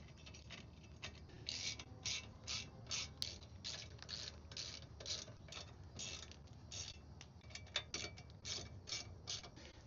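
A lock nut being tightened onto a bolt with a washer while a winch is fitted to a Honda Ridgeline, rapid ratcheting clicks in repeated bursts, close up and quiet, with no speech.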